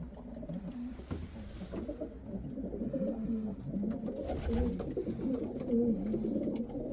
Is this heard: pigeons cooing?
yes